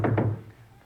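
Knocking on a door in a Laurel and Hardy film, 'Beau Hunks': two quick dull thumps close together, fairly loud, then fading into a quiet room tone.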